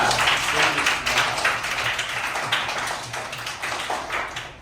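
Classroom applause for a student at a school report-card ceremony, a steady wash of many hands clapping close by with a little background chatter, continuing at an even level throughout.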